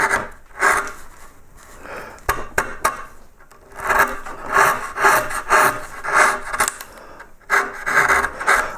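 Chisel cutting wood while removing background in a pierced relief carving of a yellow flag iris, close rhythmic scraping and shaving strokes repeated steadily, with a few sharp taps.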